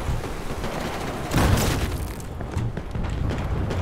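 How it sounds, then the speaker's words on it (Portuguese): Rapid gunfire and a heavy boom in the video game Battlefield 4, dense crackling shots with a louder blast in the middle, continuing as a steady rattle without speech. "Tô tomando é muito tiro aqui mesmo"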